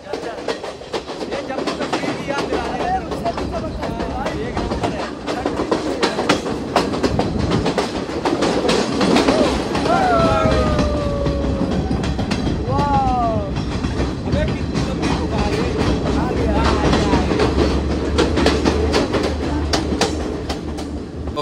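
A passenger train runs on rails between Ella and Nanu Oya in Sri Lanka, with a continuous rumble and rhythmic clatter, occasional wheel squeals and people talking over it.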